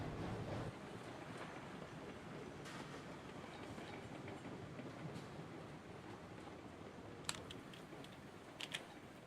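Train cars rolling along track in the Railroads Online game, a steady rumbling clatter throughout with a few sharp clicks and bumps near the end, no talking.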